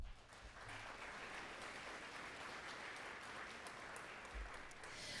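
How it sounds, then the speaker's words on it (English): An audience at a Douglas County ballot question review meeting gives a steady round of applause, dense and sustained for several seconds without a break. "of course, we have Brian Culpa Photography, all deserving a big round of applause."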